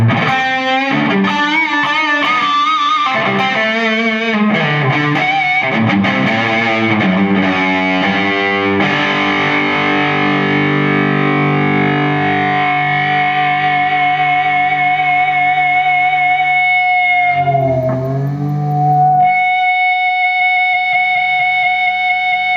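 An electric guitar on its bridge pickup through a CraigAmps Dual Drive overdrive pedal, distorted riffs and chords giving way to long sustained notes, loud and gritty, ending on a held ringing note.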